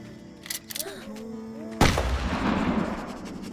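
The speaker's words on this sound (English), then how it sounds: "And just like that, we hear a gunshot." A single sharp gunshot booms in the video game Endling, cutting through a quieter game soundscape and leaving a long rumbling echo, after brief wavering tones and soft sounds.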